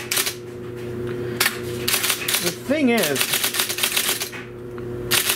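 Rapid, sharp clacks of an IBM Selectric electric typewriter come in dense bursts over a steady motor hum, with a brief whirring carriage movement midway and a person speaking briefly.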